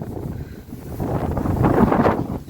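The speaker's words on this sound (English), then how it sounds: "It's very windy here today in Harrow" Gusty wind buffets the microphone in a steady low roar at a railway station in Harrow, swelling louder toward the end, with no voices.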